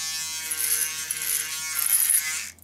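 A small portable electric shaver, used for touching up missed stubble, buzzes continuously at close range with a bright, steady whine that shifts slightly as it moves, then stops abruptly near the end.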